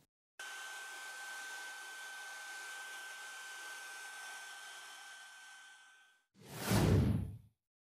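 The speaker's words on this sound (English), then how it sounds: "a hairdryer." A hair dryer drying paint on silk runs steadily with a constant whirring hum and airy rush, then cuts off, followed by a short loud whoosh of air close by.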